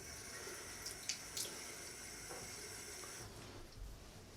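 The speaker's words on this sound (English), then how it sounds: "So I'm going to add some more water now." Tap water runs steadily into a sink while a shaving lather is worked up for a Gem razor shave, a soft continuous hiss with a few small splashes and clinks near the start.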